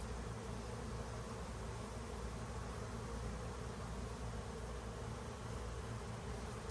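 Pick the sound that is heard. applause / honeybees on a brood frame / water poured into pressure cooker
honeybees on a brood frame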